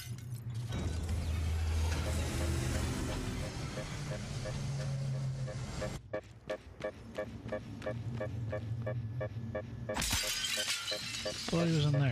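Glass shatters in the video game Prey, with a sharp crash and a scatter of breaking shards, followed by mechanical, ratcheting game sounds and a second bright burst near the end, all under game music and a voice.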